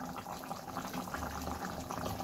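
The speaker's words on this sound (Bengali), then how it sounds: "এবার ঢাকা দিয়ে আরেকটু ফুটিয়ে নেব।" Fish head and yam curry bubbling in a covered pot, a steady soft simmering rumble with faint gurgles, continuous and close, with no voices.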